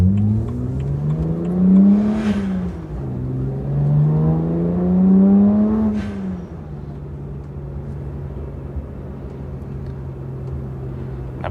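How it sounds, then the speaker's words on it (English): A modified BMW 1M accelerates through the gears with a rising engine drone, and a short turbo blow-off whoosh comes at each shift, heard from inside the car. "That blow-off's pretty cool"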